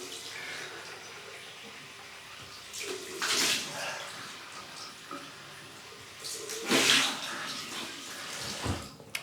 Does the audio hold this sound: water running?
yes